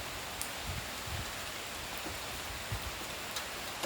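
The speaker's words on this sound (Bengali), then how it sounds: "এইখানে যে শব্দটা পড়তেছে, এইটার যে শব্দ, বৃষ্টির গতি বাড়ছে এবং গাছের পাতাও পড়তেছে" Heavy rain pours steadily at night, with leaves falling from trees; a dense, even hiss of drops on surfaces with occasional louder patters, no voices.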